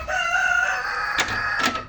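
A big rooster kept indoors crows once, close and loud, a single drawn-out call with a rough, strained finish.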